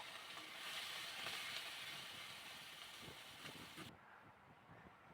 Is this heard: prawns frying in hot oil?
yes